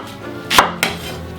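Two sharp knife chops through a red onion on a cutting board in a kitchen, close and crisp, about a quarter second apart, with no talking.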